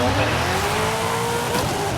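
A drag-tuned 2005 Subaru WRX STI in Forza Horizon 5 idles and wavers after a quick clutch tap, its engine drone loud and steady with a faint tire scrub.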